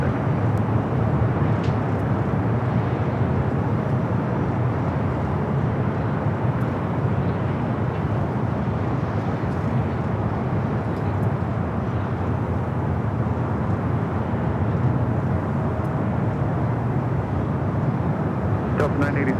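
A Delta airliner lines up on the runway at LAX, a steady broadband jet engine roar holding constant throughout, with radio chatter heard over it.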